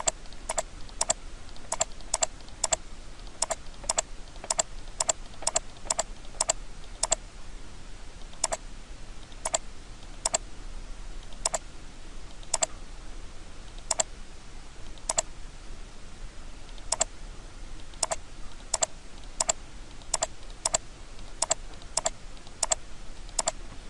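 A computer mouse clicks in sharp, close taps, sometimes in quick bursts and sometimes spaced out, quiet and alone with no talking.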